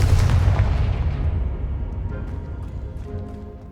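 A Confringo fire spell explodes in the Hogwarts Legacy video game, a loud, close booming blast that rumbles and fades away over a few seconds.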